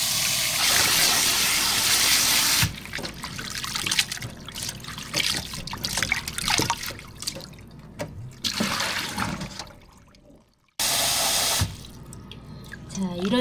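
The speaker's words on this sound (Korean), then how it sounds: "이렇게 해서 대여섯 차례 더 헹궈 줄 거예요." Wild chives being rinsed in a basin of water, shaken and swished repeatedly, give loud continuous splashing and running-water sounds that break off briefly and then resume.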